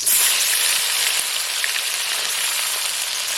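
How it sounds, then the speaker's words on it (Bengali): Onion and tomato fry in a hot pan with a loud, steady sizzle, crackling continuously throughout with no talking. "আমি এখন পেঁয়াজ আর টমেটোটা দিয়ে দেবো, এটা ভেজে নিই ভালো করে"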